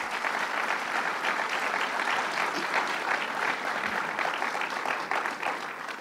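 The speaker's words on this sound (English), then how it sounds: "let's give him a round of applause." Sustained applause from a large audience at a Long Island Association event during a governor's visit, a thick, steady wash of clapping that stays constant in loudness throughout.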